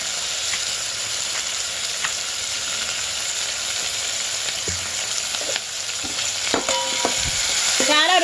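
Large tomato pieces frying with browned onions in a home kitchen pan, giving a continuous hissing sizzle with a few scraping stirs and clatters toward the end.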